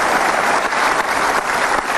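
Studio audience applause on an Indonesian television talk show, a dense steady clapping that fills the room throughout with no pauses.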